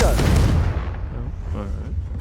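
A Confringo fire-blast spell in Hogwarts Legacy goes off as a heavy, close boom with a rumbling low-end decay, followed by fainter crackling impacts.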